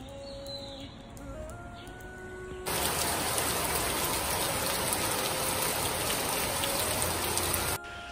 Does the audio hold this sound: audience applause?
no